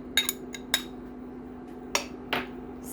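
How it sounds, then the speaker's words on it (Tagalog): Smashed garlic dropped into a pan for a lima bean and lamb dish, heard as several sharp, close metallic clinks and knocks in irregular bursts, with a longer scraping rustle near the end and quiet between hits. "Now let's start putting our smashed garlic in the pan."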